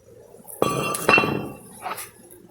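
An old, worn brake rotor is pulled off the front of a Chevy Malibu, giving two sharp, ringing metal clinks close by in quick succession, then a softer clatter.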